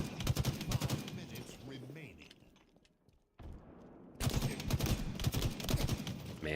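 Rapid bursts of gunfire from bullets in the video game Halo Infinite, loud and dense at the start, dropping out briefly mid-clip, then returning in sustained fire, with a voice speaking underneath.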